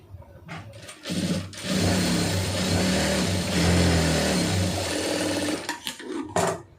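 A sewing machine runs a tailoring stitch through fabric, starting after a couple of short bursts, then a sustained fast whirring for several seconds before slowing into brief stops and restarts near the end.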